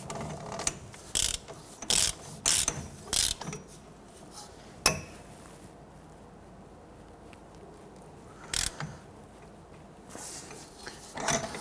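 A ratchet tightens the inner tie rod on a 1992-1996 Toyota Camry, giving several short bursts of rapid clicking close by, separated by pauses, with one sharp metallic knock.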